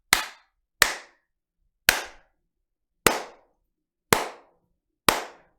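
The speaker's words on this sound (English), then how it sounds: "let's see what it sounds like when I clap." Six single hand claps spaced about a second apart ring out alone in a small stream room, each sharp crack followed by a short decaying echo tail.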